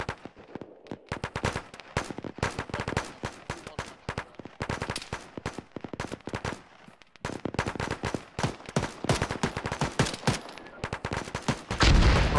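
Gunfire in a military video game: rapid bursts and single shots crack repeatedly, close and loud, with brief pauses between volleys.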